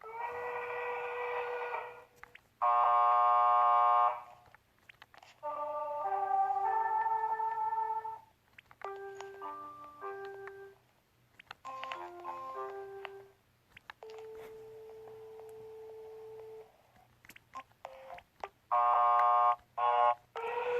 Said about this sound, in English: These are the bells. These are what they sound like throughout the school years.